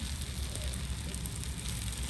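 Fenugreek seeds sizzle in hot oil for a tomato kuzhambu, a steady, close crackling hiss with no talk over it.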